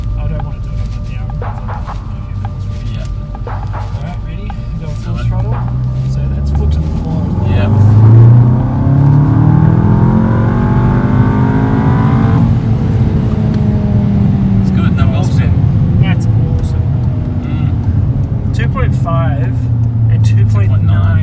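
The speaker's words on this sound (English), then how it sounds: "Go full Do it. throttle." An MK7 Volkswagen Golf GTI Clubsport with APR tuning accelerates at full throttle, its engine note climbing through gears with a brief shift dip, heard from inside the car under excited talk from the occupants.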